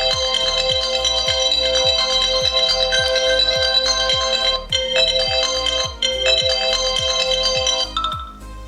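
Apple iPhone ringtone Constellation plays from a phone, a bright chiming melody over a steady pulsing beat that continues for several seconds before cutting off, no talk.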